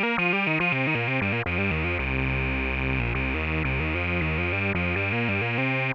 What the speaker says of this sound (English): And now we've got ourselves a nice classic analog synth sound.